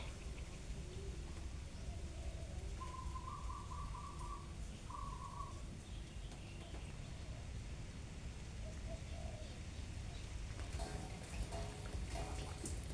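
Late-season rain shower falling in Lampang at the turn from rainy season to cool season, a steady broadband hiss of rainfall throughout with occasional faint bird calls in the background.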